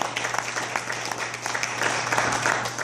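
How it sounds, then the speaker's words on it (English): Steady applause fills a small room after a spoken-word poetry night's hosts are thanked, a dense wash of clapping hands holding at even loudness throughout with a low hum underneath. "give them a nice round of applause"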